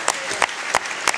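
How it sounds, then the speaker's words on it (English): Just after the first bout of a boxing event, a handful of loud, evenly spaced claps ring out close by, about three per second. "Great first bout, lovely round of applause."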